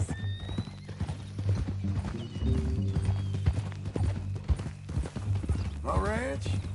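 Hooves clip-clop steadily from a horse in the Red Dead Redemption 2 video game, set against a low droning music bed, with a horse whinny near the end.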